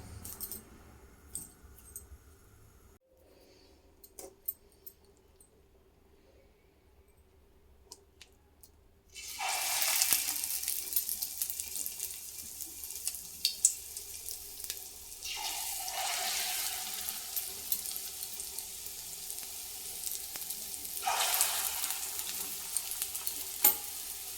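Lentil fritters dropped one by one into hot mustard oil in a pan burst into a loud, close, crackling sizzle. The sizzle surges anew as each batch goes in, after a quiet start with a few small clinks.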